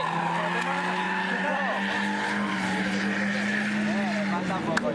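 A SEAT car drifting at a drift course, tires skidding and squealing continuously with engine drone, loud and close, while people talk over it.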